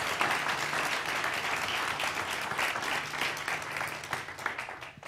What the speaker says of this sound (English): Yes, you can give her a round of applause.